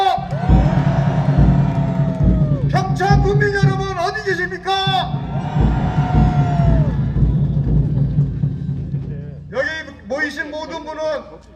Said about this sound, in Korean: 영월 국민 여러분 함성 한번 질러보세요.